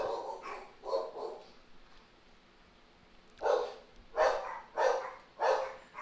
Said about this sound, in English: My dear dogs.